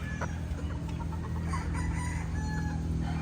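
A talisain gamecock crows one drawn-out cock-a-doodle-doo over a steady background hum, clear but moderately distant.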